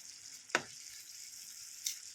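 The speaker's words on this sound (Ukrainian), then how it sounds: "Поки жариться наша зажарка" Steady sizzle of vegetables, including sweet pepper, frying in a pan for borscht, with a sharp clatter partway through and a faint tap near the end.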